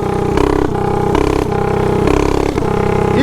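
A small mini bike engine fitted with a bypass governor revs hard and loud in repeated surges, its tone rising and dropping about every second with a rattly mechanical clatter, close up and without talk.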